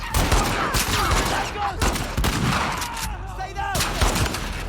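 Gunfire in the video game The Last of Us Part II: dense bursts of rapid shots and fusillades fill the stretch, steady and loud throughout, with a voice shouting over the shooting.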